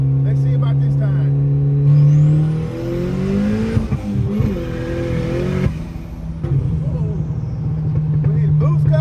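A Honda Civic fitted with a budget eBay turbo accelerates hard, the engine note climbing through the revs, dipping on a shift, then pulling again, heard from inside the car with a voice talking over it.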